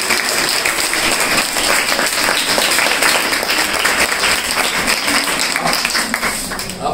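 An audience applauds at a comedic talk, a dense, steady roar of clapping that carries on loudly for the whole stretch, close and continuous with no pauses.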